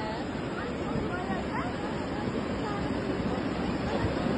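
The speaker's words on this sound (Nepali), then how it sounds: "ल खोलो गनाएर ठुलै आयो" A swollen river rushes past in a steady, loud, unbroken roar of churning water, with faint voices barely audible beneath the flow.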